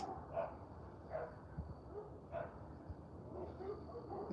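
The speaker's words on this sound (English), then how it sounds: "Want to hear the other dogs?" Several dogs bark in the distance on a quiet night porch, short faint woofs repeating every second or so, with soft ambient hum beneath.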